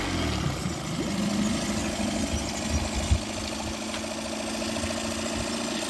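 A Mariner 9.9 four-stroke outboard motor idles steadily while warming up, its even mechanical chug running close and unbroken with no voices over it.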